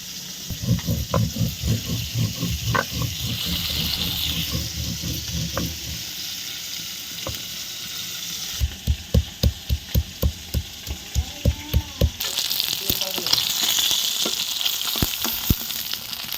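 Cumin, chili and onion fry in hot oil with a loud, continuous sizzle, punctuated by a rapid run of scraping, clinking stirs close by.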